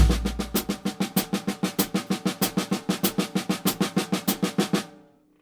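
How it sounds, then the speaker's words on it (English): Rapid, even stream of soft snare drum ghost notes, unaccented, about six per second with a steady pulse, close and clear, then stopping abruptly. "It's all ghost notes."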